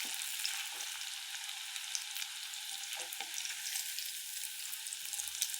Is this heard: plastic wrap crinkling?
no